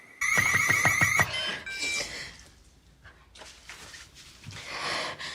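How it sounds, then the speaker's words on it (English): A home alarm suddenly trips in the horror film Smile (2022), giving about a second of loud, rapidly pulsing electronic beeps that stop abruptly, followed by quieter, scattered room sounds. "Being home alone and the alarm just trips all of a sudden, that is scary."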